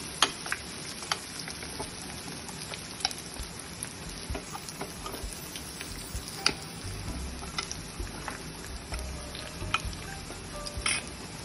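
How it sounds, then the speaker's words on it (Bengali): Chicken pieces deep-frying in hot oil for a malai chicken dish: a steady, dense crackling sizzle with scattered sharp pops throughout, close and continuous, with no talk. "সবগুলো চিকেনকে আমি ফ্রাই করে তারপর"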